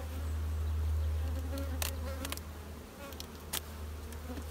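Honey bees in an opened hive on a honey super setup give a steady, close, dense buzzing drone throughout, with a few brief clicks and knocks on top.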